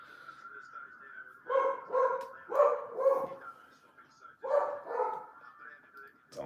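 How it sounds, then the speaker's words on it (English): A dog barks repeatedly in bursts somewhere near the house, heard during a livestream of an AFLW Port Adelaide versus Collingwood game, with the barks rising over a steady background hum. "Dog's barking."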